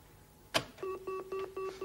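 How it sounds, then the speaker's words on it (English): A public telephone is dialed: a click as the handset lifts, then five evenly spaced dialing tones follow, clear and close. "Public phone."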